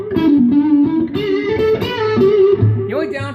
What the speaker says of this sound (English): Put a little overdrive in front of that for a solo